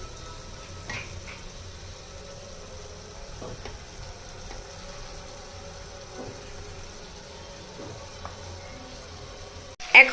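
Tomatoes fry in a pan on medium heat for a Bangladeshi tomato vorta, giving a soft, steady sizzle throughout with a few faint clinks and a sharp knock right at the end.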